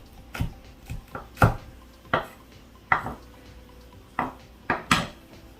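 A kitchen knife chops sweet pepper on a board for Jamaican oxtail, making about ten sharp, close knocks at an irregular pace, each with a light clatter and a short gap of quiet between them.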